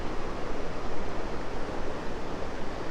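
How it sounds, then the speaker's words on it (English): Surf breaks at Middleton beach in South Australia with a light offshore breeze, giving a steady, broad wash of surging water heard alone throughout. "Pretty good waves today."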